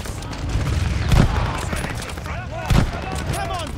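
Gunfire in a Call of Duty: Vanguard battle at El Alamein, a dense continuous fusillade of rifle and machine-gun shots with two heavier thumps, loud and close, with shouted voices mixed in.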